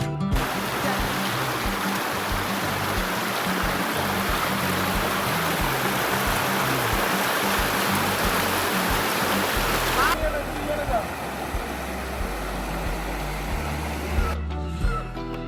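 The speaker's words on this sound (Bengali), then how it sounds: "দেখা যাচ্ছে যে এটি একটা ঝর্ণা।" A waterfall in Bandarban roars in a steady, full broadband rush that stays loud and constant throughout, with a brief change in texture near the end.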